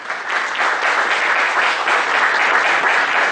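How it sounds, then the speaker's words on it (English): Steady audience applause from a seminar crowd, continuous dense clapping holding at an even level throughout, with no voices over it. "Give a big round of applause."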